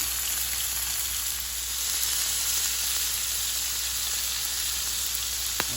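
Steak searing in a hot pan with butter, thyme and garlic, a steady close sizzle and crackle of frying that holds evenly throughout with a small pop near the end.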